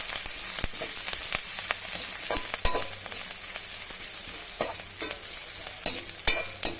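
Chopped ginger and green chilli sizzle steadily in a pan for a chilli paneer dish while a spatula scrapes and taps through them in irregular knocks, close up with no talking.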